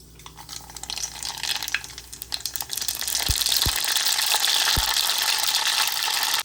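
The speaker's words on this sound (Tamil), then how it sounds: "கடுகு நல்லா பொரிஞ்சிருச்சு" Mustard seeds splutter in hot oil for a garlic thokku, a close crackling fry that grows louder and denser, with a few dull knocks from a spoon or pan.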